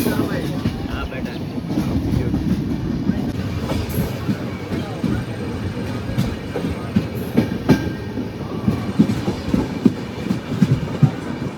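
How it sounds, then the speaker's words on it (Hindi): A train rolls along the rails toward Jaisalmer in the desert, a steady low rumble with rhythmic clickety-clack wheel impacts growing sharper later on, close and continuous, with faint voices in the background. "ये वही ट्रेन है जिससे हम लोग जैसलमेर जा रहे हैं"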